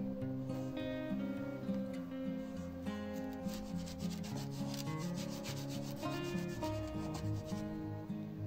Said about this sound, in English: I will electrify a plastic rod by rubbing it with a cloth.